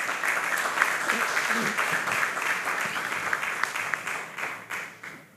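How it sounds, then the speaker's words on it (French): An audience at a Congolese economic conference panel applauds the panelists, giving steady, sustained clapping from a full room that holds for several seconds before tapering off. "Est-ce qu'on peut acclamer tous mes panélistes?"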